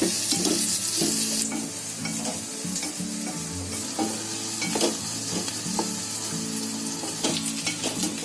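Onions frying slowly in a pan over a medium flame for a curd and guava chutney, with a steady close sizzle and repeated scraping stirs throughout, no voices.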